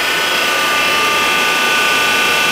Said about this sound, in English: We've got a steam extractor sucking up the smoke.